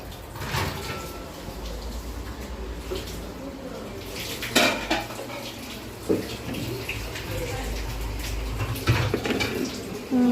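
Pots and utensils clattering in a home kitchen while pulao is cooked for a shared iftar, with sharp metallic clanks and scrapes over running-water and stirring noise, and voices talking nearby.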